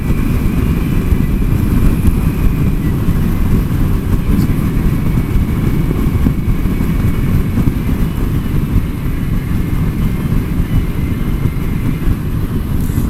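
Heavy, constant wind buffeting and rumble on a motorcycle ride to work, recorded through a helmet-mounted camera headset, loud and unbroken with low engine drone underneath and no speech.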